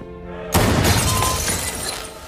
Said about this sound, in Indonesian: dia menembak Drakos yang ternyata itu adalah sebuah kaca